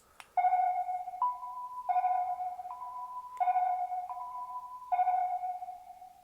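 Sound effect from a Batman toy figure imitating the Black Manta submarine, a repeating electronic sonar-like beep pattern of two alternating tones, loud and clean with nothing else heard.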